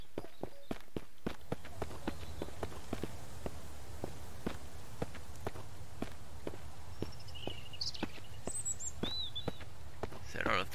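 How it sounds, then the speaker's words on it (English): Footsteps in the survival game Mist Survival: a steady run of crisp, evenly spaced steps across the whole stretch, moderately close, with faint bird-like chirps and soft ambient noise in the background. "hearing footsteps"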